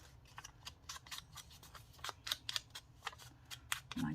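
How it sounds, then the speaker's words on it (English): Decorative scissors cut paper while making simple journal tags, giving a rapid series of crisp, close snips and rustles in an uneven rhythm, with no talking. "decorative scissors"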